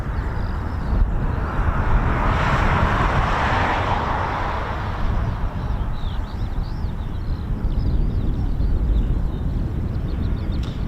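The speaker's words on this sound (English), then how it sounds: "And this is the KC-46 Pegasus, as it's been given the name." A Boeing KC-46 Pegasus tanker with a refuelling boom flies past at an air base, a steady broadband jet roar that swells and holds throughout.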